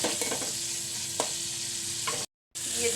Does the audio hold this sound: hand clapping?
no